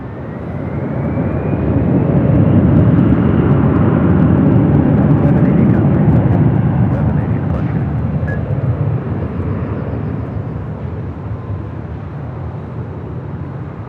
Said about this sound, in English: This is Delta 494 about to depart to Detroit on an A321.